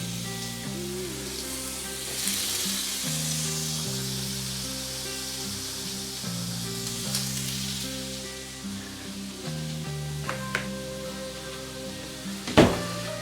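Ostrich steaks in a BBQ marinade, cooked sous-vide and then seared in a hot pan indoors, giving a steady low sizzle throughout with a sharp clatter near the end and faint music underneath.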